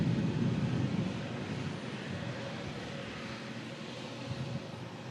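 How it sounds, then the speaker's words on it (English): A KLM Embraer E2 jet taxis out at an airport, a steady broad engine roar with low rumble heard from a distance, fairly loud and constant, mixed with some wind noise and no talking. "KLM E2 on the taxi out as well."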